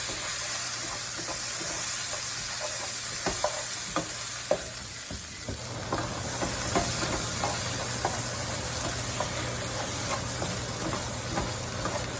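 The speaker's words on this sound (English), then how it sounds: "And we're gonna mix this all together." A spoon stirs and scrapes through jambalaya ingredients sizzling in a pot, with steady frying hiss and a continuous hum underneath and repeated close scraping clicks throughout.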